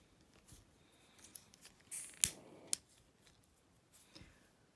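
Small scissors snipping thread while making handmade earrings, a few faint close clicks and one sharper snip amid quiet handling sounds.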